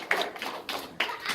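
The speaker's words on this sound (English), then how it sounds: "everybody give him a round of applause" Brief classroom applause: a few short, dense bursts of clapping from a small group, close by and moderately loud.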